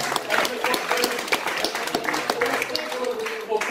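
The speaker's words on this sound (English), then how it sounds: "a round of applause for" An audience applauds during a talk on influencing delivery in tricky projects, a dense steady patter of many hands clapping that holds at an even level throughout, with no voices standing out.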